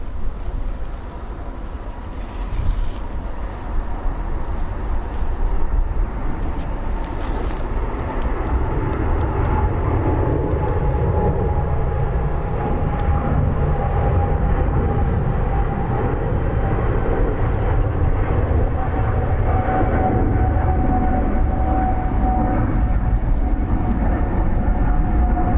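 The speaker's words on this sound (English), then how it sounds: "next arrival is the Avanti Dash 8" An Avanti Air Dash 8 turboprop arriving at Dublin Airport on a blustery day, a loud sustained engine drone with a steady whining tone that holds and slowly shifts over nearly half a minute, wind rumble underneath.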